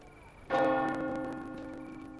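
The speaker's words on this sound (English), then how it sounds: "Once more, the distant bells ring out." A single bell strike from distant church-style bells in the game Reverse: 1999, a sudden bright clang that rings on with a long, slowly fading metallic hum.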